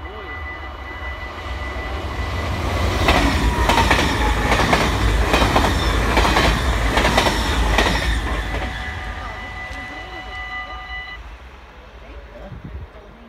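A VIRM passenger train rumbles past the Herfte level crossing near Zwolle, Netherlands, with rhythmic clacking of wheels over rail joints, swelling loud in the middle and fading away as it goes.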